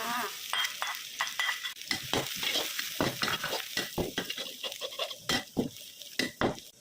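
Garlic and pork are stir-fried in a pan, giving a crackling sizzle broken by frequent sharp scrapes and clanks of a spatula against the metal, fairly close and brisk.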